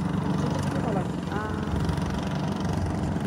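A fishing trawler's engine chugs steadily on the Meghna river near Charfasson in Bhola, a continuous low motor drone heard from a nearby boat, with people talking over it.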